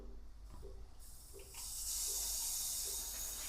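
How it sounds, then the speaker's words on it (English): Water bursts on from a shower head in a home's bathroom, going from near quiet to a steady, loud hissing spray that continues to the end. "Yo, let me put on the shower."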